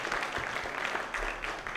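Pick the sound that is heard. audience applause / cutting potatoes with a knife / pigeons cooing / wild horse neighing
audience applause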